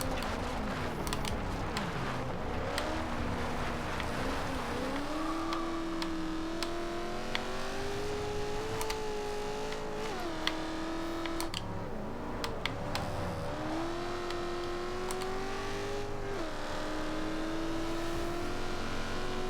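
A 2000 Ford Mustang SVT Cobra R driving in Forza Horizon 2, engine droning steadily and rising and falling in pitch with throttle and shifts, with faint clicks and taps heard throughout at moderate level.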